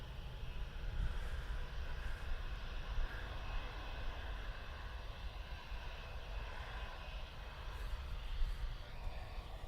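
Jetstar airliner flying in at the Gold Coast, heard as a steady broad engine roar that holds loud across the whole stretch with no talking over it.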